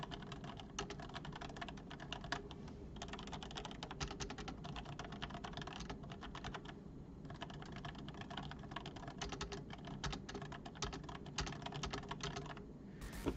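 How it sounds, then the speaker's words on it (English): Keys on a Logitech G810 Orion Spectrum mechanical keyboard being typed on in a steady, fast stream of close, crisp clicks and clacks, continuous for several seconds, with no voices. "So let's check out how the keys sound."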